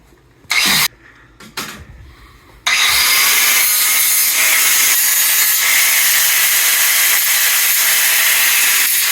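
Metal stock for a welded work table is cut with a power tool, starting with a few short bursts and gaps before a long, loud, continuous grinding cut runs from about three seconds to the end.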